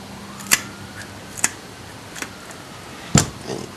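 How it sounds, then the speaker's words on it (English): Snips cut the dorsal fin off a bluegill panfish: a few sharp, separate snipping clicks spaced about a second apart, close up over a faint background hiss, with no talking. "you just take your snips, take the dorsal fin, and you cut it off"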